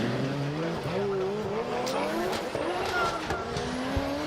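A drift car on a qualifying run at Ebisu in Formula Drift Japan, engine howling through rising and falling revs with sustained tire squeal as it slides, loud and close, with a commentator talking over it.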